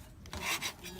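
Closed-cell spray foam insulation scraped off wood, a short rough rasping stroke of moderate loudness heard alone.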